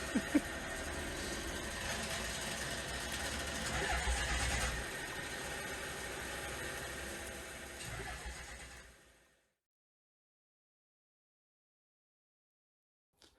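A Ford Focus fitted with a Toyota 1UZ V8 cranks and fires, holding a steady rough idle for several seconds before cutting off abruptly, leaving silence.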